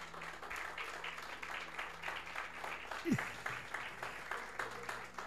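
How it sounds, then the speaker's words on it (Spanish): An audience at a church service applauds, a steady rhythmic patter of many hands, fairly faint and distant, with voices mixed in. "Denle un aplauso."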